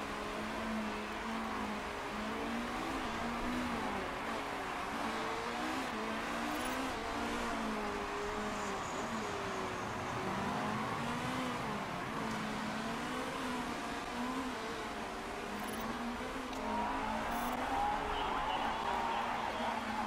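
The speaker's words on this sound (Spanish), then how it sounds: "nos hemos gastado casi todo el turbo con Molly, pero al menos hemos avanzado muchas posiciones" Race cars in the Motorsport Manager video game roar steadily throughout, their engine tones wavering and shifting as the pack races, loud and continuous with no talking.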